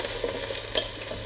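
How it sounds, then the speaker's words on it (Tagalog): Onion and garlic sautéing in a pan for sausage spaghetti give a short, steady sizzle with a couple of quick stirring scrapes, close and fairly quiet. "Iligisa muna natin ng kunti."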